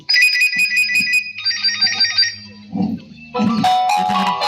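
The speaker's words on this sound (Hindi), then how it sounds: "ये तो मेरे भाई मुरमुरी का फोन आ गया" A phone rings with an incoming call, a bright electronic ringtone repeating in short melodic bursts, loud and close, with brief low sounds in the gaps between rings.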